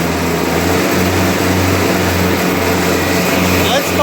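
A Kubota B3030 compact tractor with its front PTO mower deck engaged drones loudly and steadily, with a low engine hum under a person talking.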